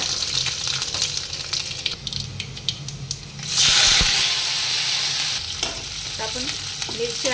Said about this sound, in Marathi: मोहरी छान तडतडू द्यायची